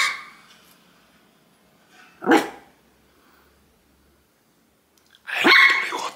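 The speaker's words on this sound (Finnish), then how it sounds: "Miksi sä haukut ihan turhasta?" A dog barks twice at home, two short sharp barks a few seconds apart, fairly close, with quiet in between.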